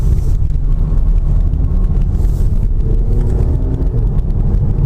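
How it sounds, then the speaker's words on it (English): Interior drone of a 2017 Range Rover Evoque SE downshifting via paddle shifters into third and then second for a tight bend, a steady loud engine and road rumble with wind noise and no talking. "changing down to third and into second for this even tighter bit"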